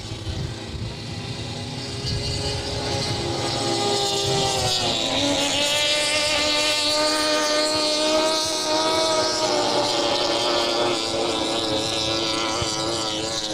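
Small high-RPM inboard racing boat engines roar steadily from a lake race in Michigan, a sustained buzzing drone with rising and falling pitch as several boats circle nearby, continuous and loud throughout.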